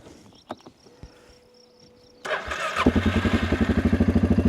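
After a quiet stretch with faint clicks and a high whine, a 2025 Suzuki KingQuad 500 ATV engine cranks and catches, settling into a loud, steady, rapid idle close by.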